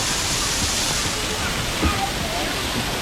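A waterfall roars steadily, a dense continuous rush of falling water that fills the scene at constant loudness.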